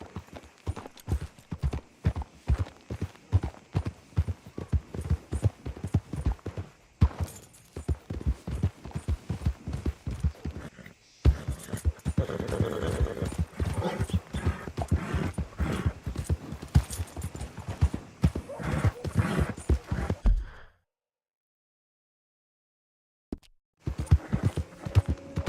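Horse hooves clip-clop steadily in Red Dead Redemption 2, a dense, rhythmic run of close hoofbeats that carries on for about twenty seconds, drops out briefly, then resumes near the end.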